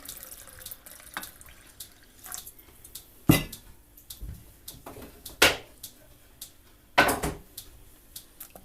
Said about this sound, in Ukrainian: сьогодні буду заливати молоком